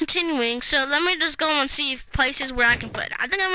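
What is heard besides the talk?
None of the usual background noises is heard.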